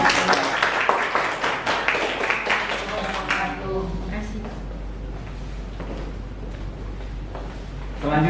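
A group claps after a presentation, with applause strongest in the first three seconds and then fading into quiet room noise.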